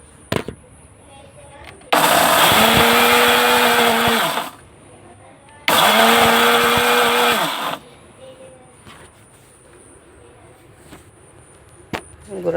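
A blender grinds fried chilies into chili powder in two loud whirring bursts of a few seconds each, with a steady motor pitch. Quieter clatter and handling noises fill the pauses between the bursts and afterward.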